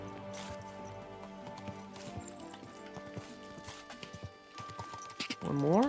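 A horse's hooves clip-clop in the video game Kingdom Come: Deliverance 2, a rhythmic walking beat of thuds under game music, with a person talking over it.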